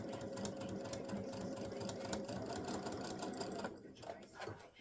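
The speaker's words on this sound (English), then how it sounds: "I'm just going to sew down that edge, keeping the edge of my foot with my edge of my loop material" A sewing machine stitches steadily along the edge of a pot holder's loop material, a continuous close mechanical whir that runs unbroken and then slows and thins out near the end.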